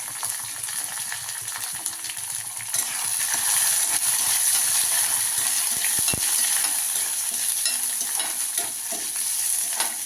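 Small onions, garlic cloves and green chillies frying in a pan give a steady crackling sizzle that swells louder partway through as more goes in, with occasional stirring scrapes and a metallic clink, no talk.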